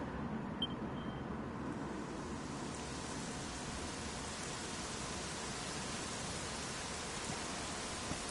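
Rain falls steadily in a video game, a soft, even hiss of downpour that stays constant and fairly quiet throughout, with no voices.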